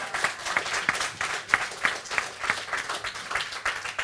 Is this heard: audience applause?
yes